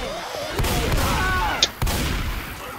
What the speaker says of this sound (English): I'm throwing a pipe bomb